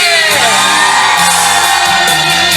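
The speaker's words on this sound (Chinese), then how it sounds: "全场再来一个尖叫声" Concert crowd at an outdoor festival by a bridge screaming and cheering, a loud sustained mass of whoops and yells.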